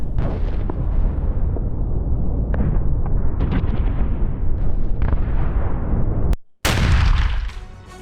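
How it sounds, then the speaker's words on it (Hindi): Russian FAB-500 bombs striking Kharkiv produce sustained, loud, rumbling blasts with repeated booming bursts, a brief cutout, then a further heavy explosion that decays. "रूस का फैब 500 बॉम्ब से हमला देखने को मिला है।"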